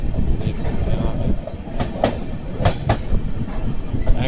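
The 12004 New Delhi–Lucknow Swarn Shatabdi Express runs along the rails through an industrial area near Kanpur: a steady, loud carriage rumble with rhythmic wheel clicks and sharp metallic taps, and no voices.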